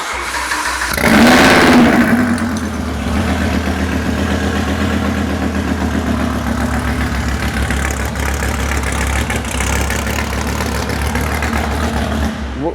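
A rebuilt twin-turbo Audi R8 engine fires on its first start with a loud, sharp burst that settles into a steady, rumbling idle, close by and with no talk over it.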